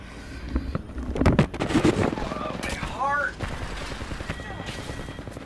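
Rapid video game gunfire crackles in a tight, close volley, interleaved with chirping game effects and a few brief voice sounds.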